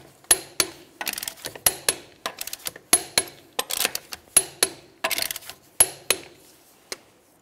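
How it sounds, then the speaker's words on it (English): A torque wrench clicks repeatedly as lug nuts on a wheel of a 1999-2003 Toyota Solara are tightened in a crisscross pattern, a rapid series of sharp metallic clicks in close bursts with brief pauses. "Let's go ahead and torque these in a crisscross manner"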